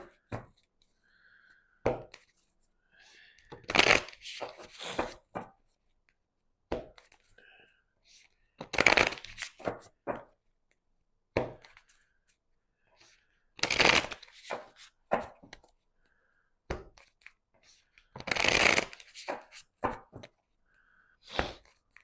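Tarot cards riffled and shuffled by hand in repeated bursts, close and crisp, with quiet pauses and soft handling sounds between them.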